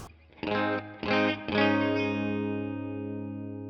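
Electric guitar run through a Tonex amp and cab model with a noise gate and compressor switched on, three strummed chords, each ringing into a long sustained decay alone.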